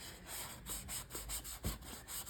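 Old leather being sanded for refinishing gives off soft, rhythmic rubbing strokes, fairly quiet and close, repeating in short, even passes with no talk.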